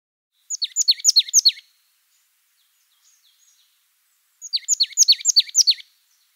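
A marsh tit sings two clear bursts of rapid, repeated high chirping notes, each about a second long and separated by silence, close and loud against a quiet background.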